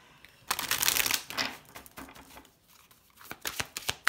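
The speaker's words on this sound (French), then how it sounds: "On va poser 6 cartes." Tarot cards being handled and laid down, a quick flurry of papery flicks and slaps followed by softer scattered taps, close and fairly quiet with no talking.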